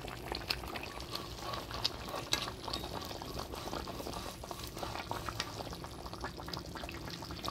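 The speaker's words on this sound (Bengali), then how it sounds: "ঝোলে বলক এসে গেছে" Fish curry broth with fried katla fish pieces boils steadily in a pot, giving a continuous bubbling, gurgling texture with scattered pops, moderately close and alone without voices.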